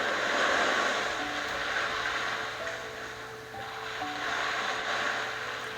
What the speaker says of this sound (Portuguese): vá trazendo a sua atenção a esse som. Esse som do mar, se conectando com ele.